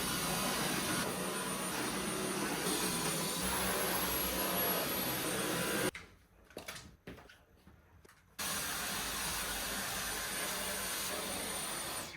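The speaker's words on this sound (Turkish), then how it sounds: "Bütün evi süpürdüm üstten yani böyle çok detaylı olmasa da." A household vacuum cleaner runs with a steady loud whine while cleaning a home, cutting out briefly for a couple of seconds before starting again.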